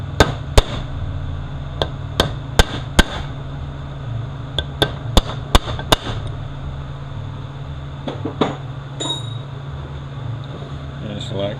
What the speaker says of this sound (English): we're going to take a chisel and we're going to stake it in place.